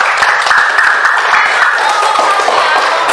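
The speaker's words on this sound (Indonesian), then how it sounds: "kasih tepuk tangan untuk kita semua" Classroom applause after a group presentation, a short burst of dense clapping from students, loud and close, holding steady for a few seconds.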